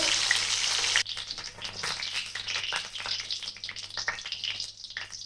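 Chicken fries loudly in a pan, a dense close sizzle that drops abruptly after a second into a fluctuating crackle and spatter, with no talking.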